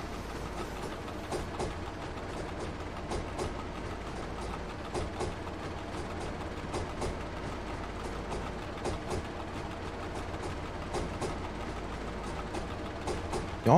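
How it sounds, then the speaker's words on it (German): A train in the railway simulator Train Driver 2 rolls steadily with a low engine rumble and periodic clicking wheel beats over the track, moderately loud and continuous with no talk. "Mensch, was für ein Zug ist denn der unterwegs?"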